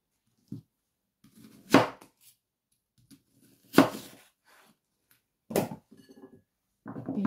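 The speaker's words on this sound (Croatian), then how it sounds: "Ovdje imam 2 glavice crvenog luka, koje ću da usitnim" Red onions being chopped with a knife on a board, three or four sharp, loud cuts spaced a couple of seconds apart, with light scraping between them and no talking.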